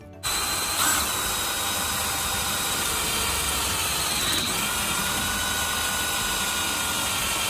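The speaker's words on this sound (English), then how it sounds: "quarter inch drill bit" A power drill with a quarter-inch bit runs steadily and close by for several seconds on a skoolie bus roof deck, a continuous whirring grind with a brief rise in pitch partway through.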